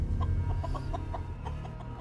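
A chicken clucks softly in a scene from the Fallout TV series, season 1 episode 1, with a rapid run of short clucks over a steady low rumble of background sound.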